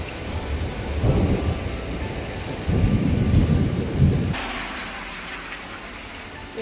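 Thunder rolls in low, rumbling bursts over steady heavy rain during a hail and rain storm in New Zealand, then drops away to a quieter rain hiss.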